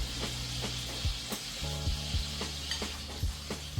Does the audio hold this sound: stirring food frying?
yes